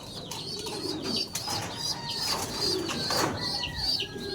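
Blue bar pigeons in a breeding loft coo repeatedly at close range, with soft bursts of wing flapping among the calls and no speech.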